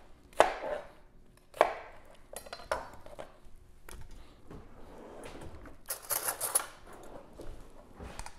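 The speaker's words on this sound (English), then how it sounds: "Split it down the middle, peel it, chop in quarters" Knife chops through a vegetable on a cutting board while making salsa: two sharp, prominent whacks near the start, then a run of lighter cuts and a brief clattering burst, close up and with no talk.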